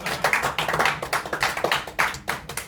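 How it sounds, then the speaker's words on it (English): Audience applause closing a site setup training session in Nottingham, a sparse round of claps from a small group, moderately loud with uneven bursts over under three seconds. "Round of applause, Team ladies Royce, and"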